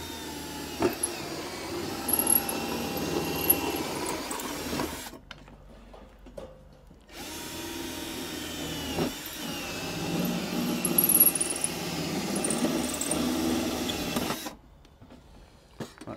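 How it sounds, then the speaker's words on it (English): A power drill whirs in several bursts while fitting Legrand trunking, loud and close, separated by short silent pauses. "we drill again"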